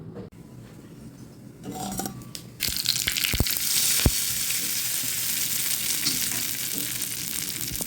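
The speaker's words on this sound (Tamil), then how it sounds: "இப்போ தாளிச்சிடலாம்" Tempering for fried gram chutney bursts into a loud, steady sizzle of hot oil partway through, following a quieter opening with a few clinks, and keeps crackling to the end without any talk.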